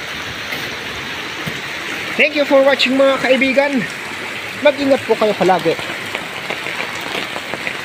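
Heavy typhoon rain from Typhoon Kristine makes a steady, even hiss that runs through the whole stretch, with a person talking over it in two bursts.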